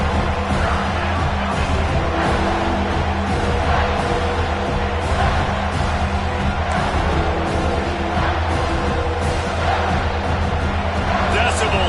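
A stadium crowd in a college football video game roars steadily on a third-down defensive stand, a dense continuous cheer with play-by-play commentary talking over it.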